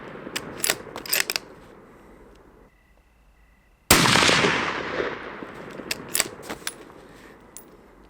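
A Browning X-Bolt deer hunting rifle fires once with a sharp, loud crack and a long fading tail after a brief lull. The barrel is hot, and lighter clicks and handling sounds come before and after the shot.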